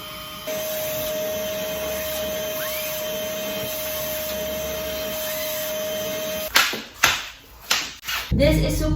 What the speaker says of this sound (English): I can use this as a vacuum cleaner in our house and even in our car.